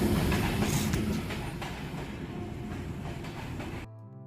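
Train running on rails, a steady rumbling roar with faint rhythmic clatter, fairly close and continuous, cutting off abruptly near the end with no voices.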